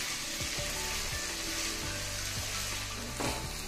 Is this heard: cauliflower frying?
yes